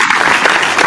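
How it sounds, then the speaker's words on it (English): A crowd gives a brief, dense burst of applause, steady and fairly loud, lasting under a second with no talk over it. "Nice round of applause."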